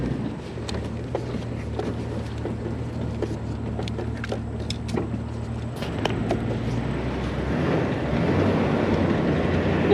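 A Jeep Wrangler LJ with new tube doors rattles while driving, with light clicking knocks scattered over a steady low engine and road rumble that builds slightly toward the end.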